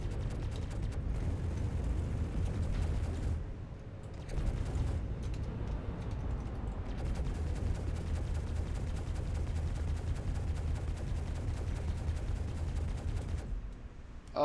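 Heavy weapons on a ship in the Star Citizen game fire in a dense, sustained roar of blasts and rumbling booms, loud and continuous for most of the stretch with brief dips, no talking over it.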